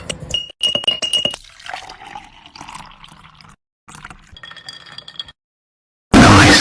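Ice cubes clink and rattle against a glass jar in bright bursts while an iced espresso drink with milk is assembled, with quiet gaps between the clinks and a sudden loud noise at the end.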